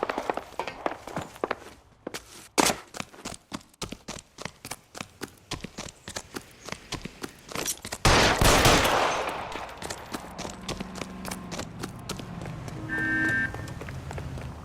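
Gunfire in the L.A. Noire video game, a run of sharp repeated shots and bursts mixed with footsteps and movement, loud and close, then dying down into quieter ambience.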